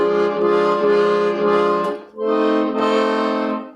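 Two sustained accordion diminished chords sound from the bass buttons, the first held nearly two seconds with slight pulsing, then a second, fuller chord.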